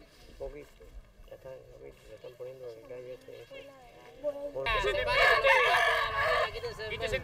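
Roosters crowing and clucking among a rural crowd before a weekend cockfight in a farming village near Trinidad, Cuba, with people talking throughout and a louder burst of crowing and noise in the second half.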